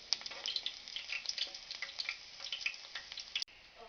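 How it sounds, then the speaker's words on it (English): Aromatics for Jamaican escovitch fish frying in hot oil give a steady close crackling sizzle with small pops throughout, alone, briefly cutting off near the end. "I'm allowing that to fry up real quick."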